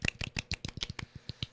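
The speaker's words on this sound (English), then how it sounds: "Golf clap" A soft golf clap, light hands patting together about a dozen times in a quick, even rhythm, close and quiet, with no other sound.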